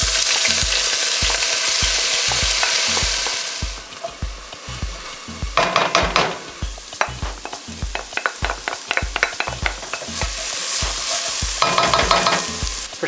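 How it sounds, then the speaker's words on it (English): Onions and garlic sizzle in olive oil in a pan for chile verde, a loud continuous frying hiss broken by scraping, clattering stirring strokes, with the sizzle fading briefly then surging again. "So what I'm going to start with is sauteing the onions and the"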